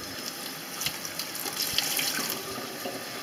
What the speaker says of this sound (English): It looks like the water is pretty much running clear.